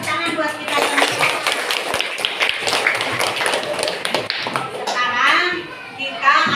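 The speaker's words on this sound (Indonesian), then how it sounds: "Tepuk tangan buat kita semua." A school class claps in unison, bright rhythmic bursts of many small hands over a sustained stretch, with children's voices and a teacher's voice mixed in close by.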